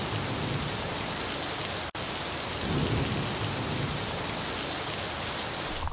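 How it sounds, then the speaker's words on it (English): Heavy rain pours down steadily during a thunderstorm at a lake, a dense close hiss of drops with no voices. "Well, it's pouring down."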